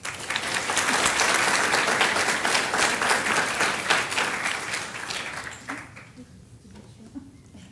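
Loud, sustained applause from a crowd at a College of Nursing white coat ceremony for graduate students, a dense clapping wash that holds steady before thinning out and fading near the end.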